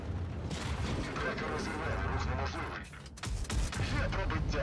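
Tank cannon fire from a Mau5tank with two guns in the World of Tanks Blitz battle game, booming, rumbling blasts amid dense mechanical battle noise, with a sharp shot near the end and someone talking over it.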